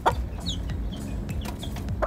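A mother hen of a chick brood clucks nearby in short repeated calls, with other chicken sounds and soft farmyard background between them.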